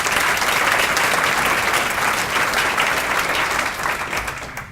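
A breakfast crowd at an education foundation event bursts into sustained, dense applause, steady and loud before tapering slightly at the end.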